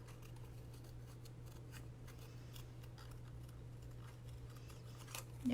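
Scissors trimming around a paper butterfly for a card purse, making faint, quick repeated snips over a steady low hum.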